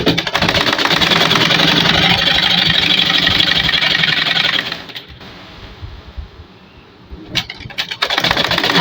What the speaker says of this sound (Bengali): ইজার প্যান্ট সেলাই করে দেখাচ্ছি